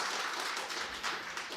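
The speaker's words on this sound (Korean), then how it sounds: "다시 한번 감사의 박수 드리겠습니다" A church congregation applauds during a Wednesday worship service, giving a dense, steady patter of clapping from many hands. It is fairly quiet and brief, with no voices over it.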